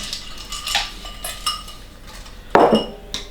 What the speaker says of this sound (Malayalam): ഇപ്പോൾ ഐസ് വേണമെന്നിട്ട് നമുക്ക് ഫില്ല് ചെയ്യാം.